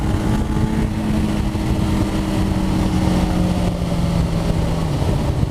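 A Honda CBF1000F motorcycle engine runs steadily nearby, a loud continuous drone with a gradually shifting pitch and no speech over it.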